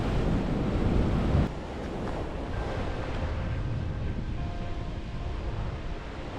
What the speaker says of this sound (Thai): คลื่นซัดเข้าฝั่ง